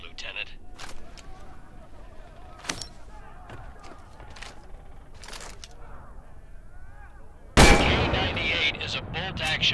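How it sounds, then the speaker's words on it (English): Rifle fire from a K98 bolt-action in the VR game Medal of Honor: Above and Beyond, heard as scattered sharp shots over soft game ambience, ending in a louder sustained burst of noise near the end. "Now get ammo for this K98 from these ammunition boxes. Fire away, Lieutenant."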